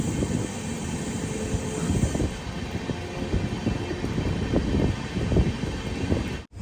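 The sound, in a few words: Jhelum Express arriving at Ludhiana station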